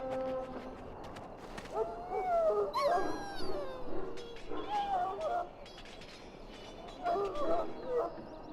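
A sick hound in Dragon Age: Origins, ill from swallowing Darkspawn blood, lets out several high, wavering whimpers and whines in three bursts over a steady low game ambience.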